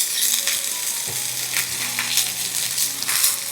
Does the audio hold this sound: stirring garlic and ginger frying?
yes